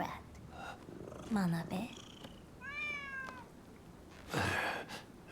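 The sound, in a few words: stray cat meowing and purring in video game Rise of the Ronin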